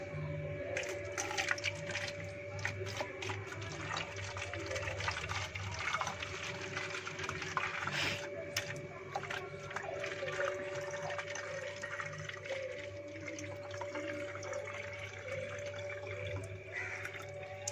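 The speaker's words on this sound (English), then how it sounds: "Observe, stream of water is coming from the holes" Steady running water trickles and splashes continuously as it streams from holes in a bottle, with a constant background hum and occasional small clinks.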